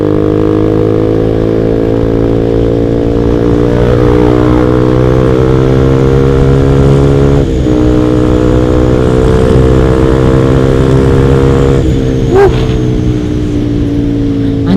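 Honda CBR150R motorcycle fitted with a Proliner header exhaust, ridden on a bumpy road; a steady, loud engine drone holds throughout with small shifts in pitch and no talk over it.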